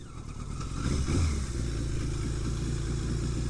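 Yamaha XJ650 Turbo motorcycle engine running steadily after a cylinder repair, a continuous loud, close low rumble that swells briefly near the start and then holds an even idle-like drone, with no talk.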